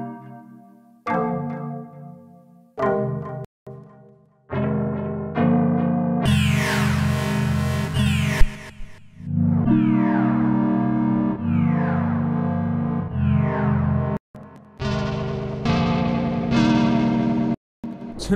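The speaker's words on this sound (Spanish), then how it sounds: "voy a darle play a nuestra melodía que tenemos de este lado, y a su misma vez voy a ir cambiando de preset e ir jugando con los efectos" A synth melody played through VST plugin effect presets, switching between distortion, delay and reverb settings, with sustained notes, echoing tails and sweeping tonal changes, loud and continuous with brief gaps.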